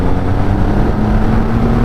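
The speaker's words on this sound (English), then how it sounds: "Let's just drop it down to 3rd gear, and let's just open the bike up and just see how it goes." A Triumph Rocket 3 R motorcycle accelerating in third gear gives a loud, close, steady engine drone with a constant low hum and wind rush throughout.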